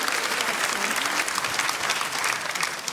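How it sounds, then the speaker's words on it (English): A crowd at a local election campaign event in Essex claps loudly and continuously, dense close applause filling the whole moment. "Round of applause for the Homesteads."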